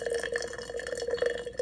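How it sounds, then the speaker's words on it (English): Hot water pours into a jar at home, a soft, steady trickle and splash heard close and fairly quiet, with nobody talking over it. "We're going to go ahead and pour some hot water in here."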